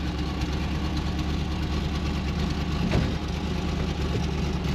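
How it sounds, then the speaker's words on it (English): A 1951 GMC truck engine idles steadily, a low, even rumble close by with a faint rhythmic knock and no break over several seconds. "Cranks, runs, drives."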